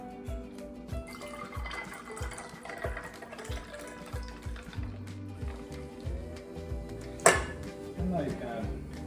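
Tonic water from a can is poured onto gin in a glass, a soft bubbling, fizzing trickle under a person talking, with one sharp clink partway through.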